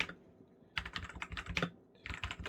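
Close computer keyboard typing in irregular bursts while writing a bot script, a short pause, then a burst of clicks, a brief gap, and more clicks, with no speech.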